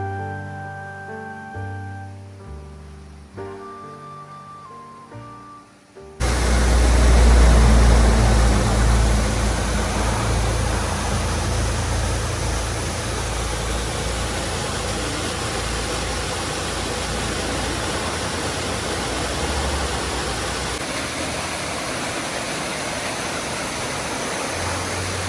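The waterfall at Sarpi, Georgia roars as a loud, steady, broadband rush that starts abruptly a few seconds in and continues unbroken, after a quieter opening with faint background sounds.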